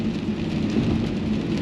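Steady rain falling outside, an even, continuous hiss with no voices, heard from indoors at a constant level.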